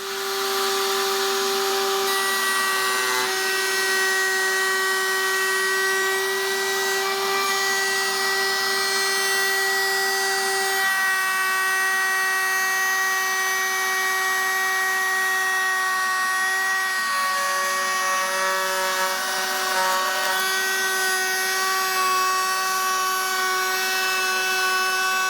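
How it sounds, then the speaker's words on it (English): A router pattern-routing a curved wooden part for woodworking gives a loud, steady, high whine with a constant pitch. It runs without a break for about 25 seconds, with no talk. "Now that's what pattern routing is all about."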